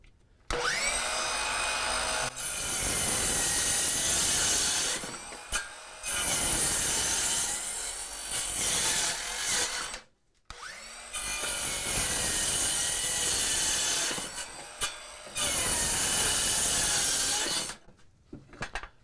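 A Milwaukee 6-1/2 inch circular saw cuts through wood in two long passes, its motor whining loudly with a harsh rasping bite during each cut, each pass separated by a brief silence.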